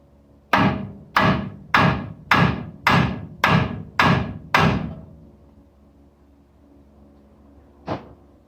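On a 1990 Toyota SR5 truck, a hammer strikes eight evenly spaced, loud, ringing metal blows to break loose a front ball joint, followed by silence and one fainter knock.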